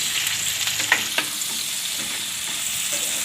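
Potato, onion and capsicum fry in oil with a constant close, loud sizzle, punctuated by a couple of light spatula taps and scrapes.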